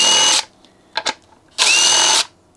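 Impact driver backing long screws out of the lower engine housing of a Homelite 330 chainsaw, two loud whirring bursts separated by brief clicks and handling sounds.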